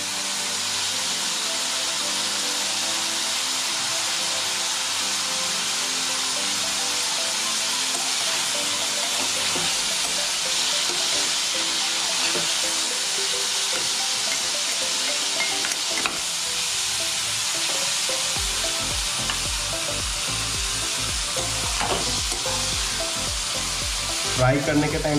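Silkworms fry with onion, ginger and garlic in a pan, producing a continuous loud sizzle with hissing steam, joined later by repeated clinks and scrapes of stirring.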